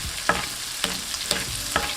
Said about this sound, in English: Just gonna baste it with some of the butter.